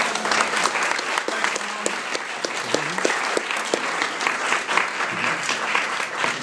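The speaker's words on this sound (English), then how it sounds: "could we just please give them some applause for the work they've been doing?" An audience at a press conference for a theme-park parade and cinematic show premiere claps steadily for the entertainers, a dense, continuous round of applause filling the room without a break.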